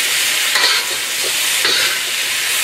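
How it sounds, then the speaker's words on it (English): Onions with brown sugar are stir-fried for a gochujang chicken stir fry, a loud close steady sizzle with two brief bursts of stirring. "Give them a quick stir."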